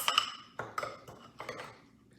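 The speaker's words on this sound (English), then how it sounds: "So I'm giving everything a quick mix." Baking ingredients with melted butter are mixed quickly in a bowl, giving a few soft clinks and scrapes of a utensil against the dish in short bursts, close but fairly quiet, with no talking.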